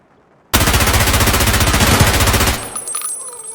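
A P90 SMG in Escape from Tarkov fires one loud, rapid, unbroken full-auto burst for about two seconds, then fades into a ringing echo with small clicks.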